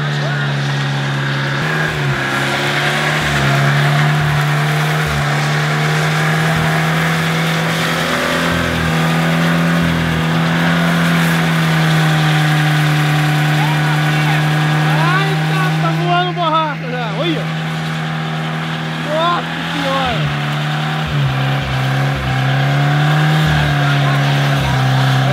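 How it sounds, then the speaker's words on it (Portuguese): A turbocharged Volkswagen Voyage engine revs and accelerates loudly and continuously, its drone rising and falling up close, while excited voices talk and shout over it. "Olha o carro vindo ali, ó!"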